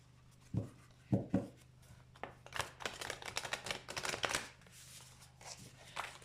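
A deck of love oracle cards being shuffled and cut, heard close up as a few soft taps followed by rapid riffling flutters, with no talking.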